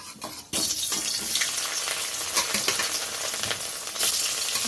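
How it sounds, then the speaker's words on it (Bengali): Pre-boiled cauliflower fries in oil left over from frying bori lentil dumplings. After a quiet opening half-second, a loud, dense sizzle bursts in and continues, broken by scraping stir clicks and a fresh surge near the end. "বড়ি ভাজার এই তেলটাতেই আমি ফুলকপিগুলো ভেজে নেব"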